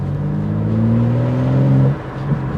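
A BMW M4 engine drones with a low, steady rising tone that cuts off abruptly near the end, followed by a brief lower rumble, loud and close.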